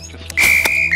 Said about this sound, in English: And again, I get to mess around with this whistle again and annoy everyone.